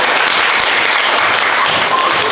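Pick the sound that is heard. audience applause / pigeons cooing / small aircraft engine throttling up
audience applause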